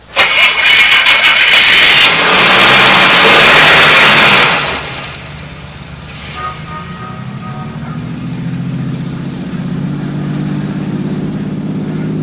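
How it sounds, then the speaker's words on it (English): A car engine cranks and roars loudly for several seconds, then settles into a steady lower rumble as the vehicle drives along, in a 1974 radio drama. "Start your car, head west of the highway"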